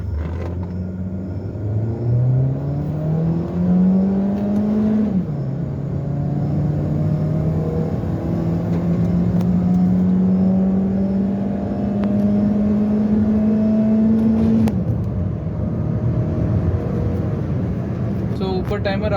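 A Honda City car accelerates hard from 0 to 100 km/h on an empty road, its engine note climbing steadily, dipping at one gear change, then droning loud and continuous inside the cabin.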